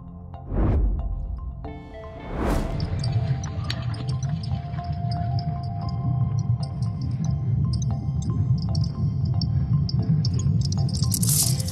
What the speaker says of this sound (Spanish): lo que estás escuchando es el sonido de un campo magnético de nuestro planeta